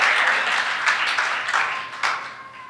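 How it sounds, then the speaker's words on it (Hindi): Applause from a church congregation clapping for the Lord during a Hindi sermon, a steady dense patter with a few louder bursts, no talking over it. "जोर से प्रभु के लिए ताली बजाएं।"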